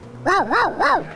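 A person imitates a dog, giving three quick, rising-and-falling barks in a steady rhythm, loud and close.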